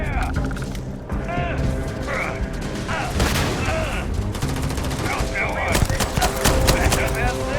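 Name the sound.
heavy gunfire in the video game Starfield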